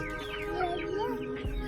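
Desi and tiger chickens cluck close by in a steady, overlapping stream of short calls, with a constant low hum beneath them and no talk.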